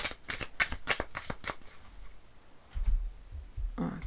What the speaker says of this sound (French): Donc on va reprendre une carte.